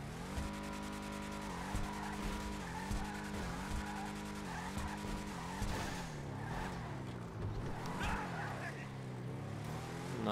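Schyster Deviant muscle car in GTA 5 Online roaring through a wheelie, its engine holding a steady loud drone with rising and falling revs and tire squeal, close and continuous throughout.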